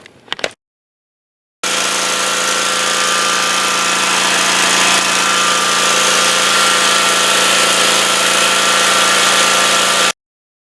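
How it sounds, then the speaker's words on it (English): After a short clatter and a pause, a Snapper zero-turn mower engine fires up and settles into a loud, steady idle that runs unbroken for about eight seconds, then cuts off. "I'm going to start the engine and warm it up so that I can warm up the oil."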